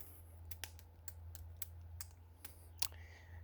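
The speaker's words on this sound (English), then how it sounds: "it's me hitting a tree with a branch" Sharp, dry knocks of a branch striking a tree trunk outdoors after rain, about ten irregular hits spaced a few tenths of a second apart, fairly close over a steady low hum.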